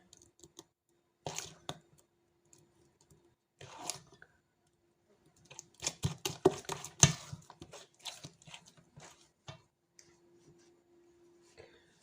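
Kefir cake batter with sugar is stirred in a bowl, giving soft wet squishes and clicks in scattered bursts, with a denser stretch of mixing midway, quiet and close.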